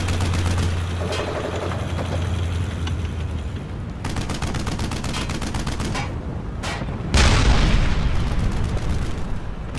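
Bursts of gunfire and heavy explosions from the World War II shooter game Brothers in Arms: Hell's Highway, with steady rattling shots, a low rumble early on and a louder blast around the seventh second.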